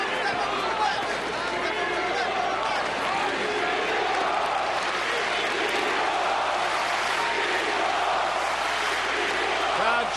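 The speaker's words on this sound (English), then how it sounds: "Crowd chanting, Klitschko," A boxing arena crowd at Klitschko vs Brewster II chants Klitschko, a dense, continuous roar of many voices filling the hall, loud and steady from start to finish.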